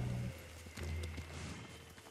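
A horse galloping up when called in the Ghost of Tsushima video game, its hoofbeats a quick muffled clip-clop over game ambience.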